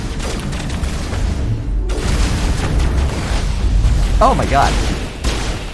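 Gun battle in Mass Effect with booming explosions and bursts of gunfire layered over game ambience, while a person reacts aloud over the action.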